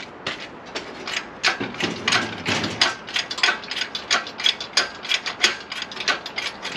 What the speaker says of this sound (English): Garage winch saves us again.